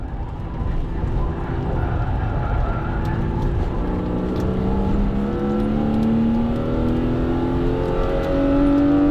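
A mostly stock BMW E36 M3 accelerates hard on a race track, its engine note rising steadily through the revs as a loud, sustained, climbing drone heard close from inside the car, with no talk.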